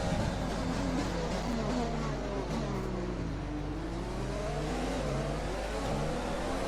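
Racing car engine in a sim racing video game league race in Vietnam, revving continuously with rising and falling pitch as it accelerates and shifts through gears, loud and steady throughout.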